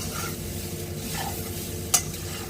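Fried rice being stirred in a pan for a fish fry with fried rice, giving a steady loud sizzle with scraping stir strokes throughout and one sharp utensil clink near the end.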